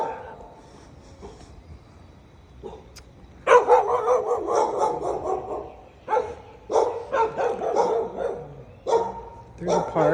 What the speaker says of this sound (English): He always barks.